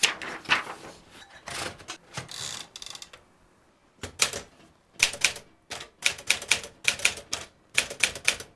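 Keys striking on a real manual typewriter, crisp clacks in irregular runs with brief pauses, close and loud, the mechanism clunking between bursts.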